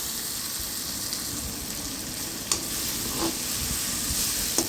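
Steady sizzling from a hot pan with occasional scraping stirs and small clicks, close and continuous, with no voices.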